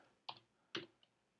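Two crisp keystrokes followed by a faint third tap on a computer keyboard while a command is entered in a terminal, quiet and isolated against near silence.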